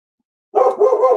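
A dog barks at a passerby, a short burst of loud, close barking after a moment of silence.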